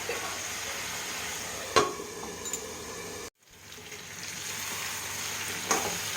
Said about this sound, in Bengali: জলটা শুকলে আমার পেঁয়াজটা মাছটা পুরো ভাজা ভাজা করতে হবে